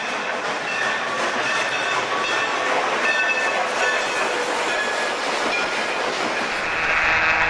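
Southern Pacific 2475 steam locomotive rushes past on the Niles Canyon Railway tracks, loud and close, with a steady roar of wheels and rail clatter filling the whole stretch.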